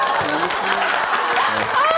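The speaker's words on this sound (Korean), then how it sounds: "이야 박수 좀 부탁드립니다." Studio audience applause on a Korean TV talk show, a short burst of clapping heard under a speaking voice that continues across it.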